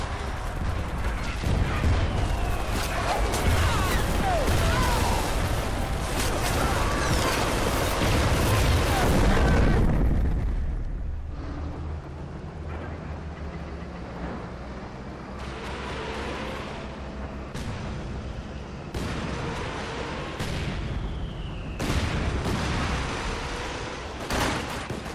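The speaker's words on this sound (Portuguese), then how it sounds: "olha o barulho que deve fazer esse tipo de canhão." Company of Heroes 2 cannon artillery fire: dense, heavy rumbling booms and rapid blasts pound continuously for about ten seconds, then thin out to scattered thuds and distant bangs over a lower drone.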